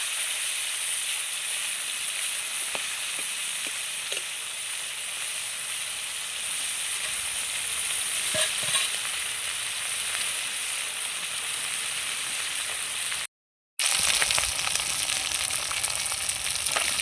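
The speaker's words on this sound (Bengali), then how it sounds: "মাছগুলো ভেজে নেব।" River fish fry in hot oil in a home kitchen, giving a steady, loud, dense sizzle with crackling spatters. It continues almost unbroken, with one short silent gap near the end.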